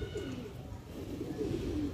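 Female Allahabadi pigeon held at a pigeon sale gives a few low, soft coos close by, with a busy market murmur behind.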